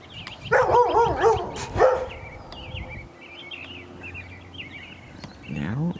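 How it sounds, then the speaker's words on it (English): Dog barking outdoors, a few sharp barks and yips close by at first, then quieter with birds chirping in the background and a voice at the end. "Crazy dog."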